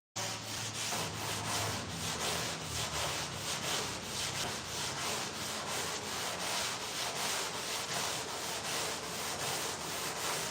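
Steady back-and-forth block sanding on a car body, a loud, close, continuous rasping scrub with an even rhythmic pulse, running alone from start to finish.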